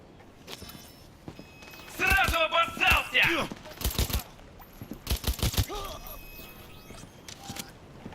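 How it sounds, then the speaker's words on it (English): Grenade blasts and bursts of gunfire in the video game Cyberpunk 2077, a cluster of loud sharp explosions and rapid shots mid-clip between quieter stretches, with a voice speaking over parts of it. "Hello, I can hear grenade."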